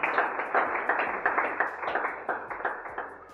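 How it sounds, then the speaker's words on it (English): A round of applause at a product unveiling event in Nigeria, steady clapping from a modest crowd with individual claps standing out rhythmically, fairly close and continuous throughout. "Can we have a round of applause for her?"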